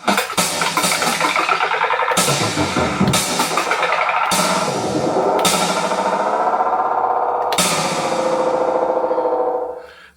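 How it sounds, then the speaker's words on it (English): A Roland TR-1000 drum machine plays loud, punchy hits with heavy delay and reverb. Each strike smears into a long echoing wash that fades out at the end. "there's your delay and reverb as assigned on the main kit edit page"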